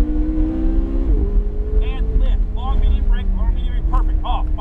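A McLaren 570S at a track day, its engine droning steadily and then rising in pitch under throttle, loud and close, with a voice talking over it.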